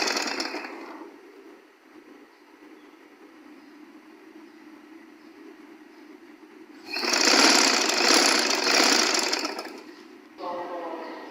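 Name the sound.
sewing machine stitching a folded frock hem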